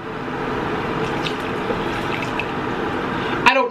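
Water runs steadily into a pot for cooking a large batch of cheesy carbo fire noodles, a continuous pouring wash in a kitchen that ends with a brief clatter.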